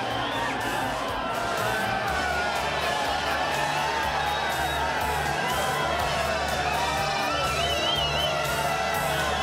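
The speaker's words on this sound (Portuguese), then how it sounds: "sobe o som da torcida, sobe o som dos atletas aí" Crowd cheering at the start of the São Silvestre international street race in São Paulo, a continuous loud roar of many voices with whoops and shouts rising over a dense, steady din.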